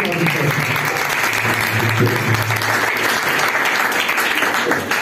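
A church congregation at a prayer meeting breaks into sustained, dense applause, steady and loud from start to finish with a faint murmur of voices beneath.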